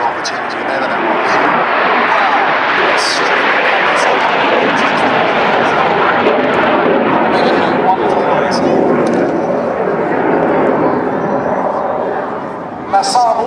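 A Saab J-29 Tunnan jet flies a display at an air show in Jersey, its engine roar loud and continuous for several seconds before trailing off, with brief crowd or camera noises above it.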